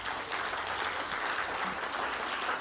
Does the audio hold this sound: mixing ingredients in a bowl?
no